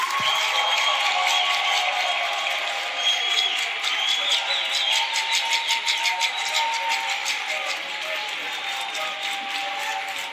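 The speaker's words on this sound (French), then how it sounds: "On va écouter les applaudissements du public pour Ray Malango." Audience applause at a televised talent competition in Kinshasa, a steady dense wash of many hands clapping with crowd noise, fairly loud and sustained throughout.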